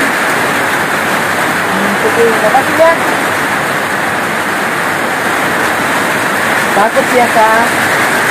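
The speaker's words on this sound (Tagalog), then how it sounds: "Ang lakas ng ulan" Heavy rain pours in a constant, loud rush while people exclaim in Tagalog over it.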